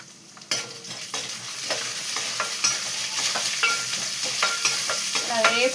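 Urad dal frying and being stirred in a pan, a steady sizzle broken by repeated scraping strokes of a spoon at a fairly regular pace, close up and alone with no voices.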